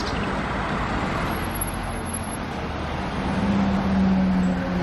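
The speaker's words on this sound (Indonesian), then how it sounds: "di sini ada bus tingkat ya teman-teman" A double-decker bus moves through street traffic with a continuous low engine drone and roadway rumble. The noise is moderately close and swells slightly toward the end, with no talking.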